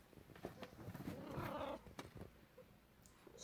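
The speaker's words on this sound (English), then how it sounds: "Stroke the cat some more." A cat purring softly and steadily while being stroked, close and low in level, with faint room noise and a few small rustles.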